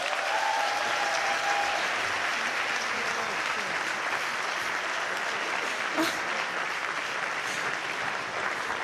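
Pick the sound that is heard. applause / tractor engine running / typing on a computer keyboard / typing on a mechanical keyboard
applause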